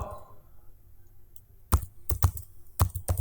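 CSS code being typed on a computer keyboard: near-silence, then sharp, close clicking keystrokes in a few quick bursts over a faint hum.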